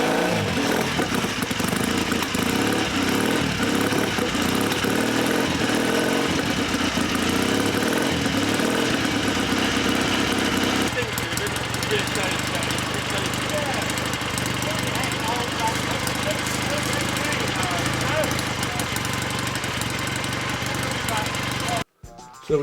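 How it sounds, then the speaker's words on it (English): A BSA A10 motorcycle engine fires up and then settles into a steady, loud mechanical idle, heard close at a workshop open day, with a change in engine tone partway through and an abrupt cut near the end. "let's hear her fire up"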